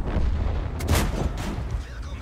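Artillery fire in World of Tanks, a deep booming shot with a rumbling low tail around the middle of a steady battle din, no talk over it.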